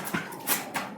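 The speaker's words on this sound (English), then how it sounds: "My dog was literally attacking the mailman." A dog barks in agitation at the mail carrier, giving about three sharp, rough barks against a noisy, close background.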